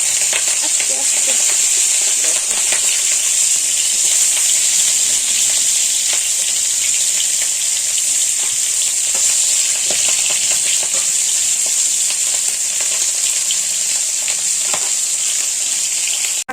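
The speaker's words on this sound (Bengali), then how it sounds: "প্রথমে আমি মাছটা ভেজে নেব" A fish frying in a pan gives a loud, constant hissing sizzle with a bright steady spatter, carrying on without pause for the whole stretch.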